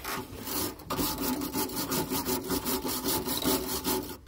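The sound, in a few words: wire brush scrubbing metal on air suspension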